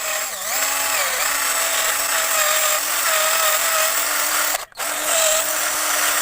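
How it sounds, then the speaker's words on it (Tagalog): A cordless drill whirs steadily and close up while working on a Yamaha Mio Sporty scooter, its motor pitch dipping under load, with a brief cutout near the end before it spins up again. "first step ay i-port natin ito gamit itong ating chargeable na barena"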